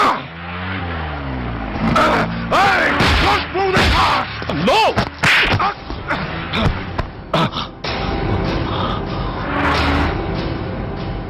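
A car in a Telugu film chase scene: engine revving and accelerating with tire squeals and thuds, loud and close, rising and falling in bursts, then a steady driving rumble.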